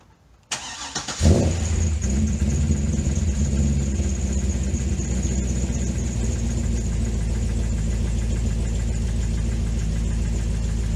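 A Corvette C6 LS2 V8 engine cranks and catches, then settles into a steady idle with a persistent ticking, tapping lifter clatter running throughout.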